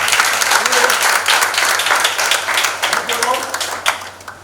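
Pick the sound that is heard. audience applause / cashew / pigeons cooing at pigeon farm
audience applause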